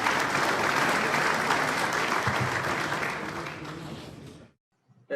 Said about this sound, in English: Join me to give a round of applause to him